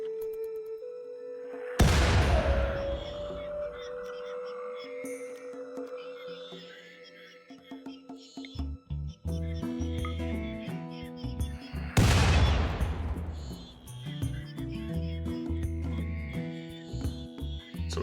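In Rimworld, colonists fire at a ship, producing two heavy booming blasts several seconds apart, with scattered sharper shots and impacts in between over a low hum.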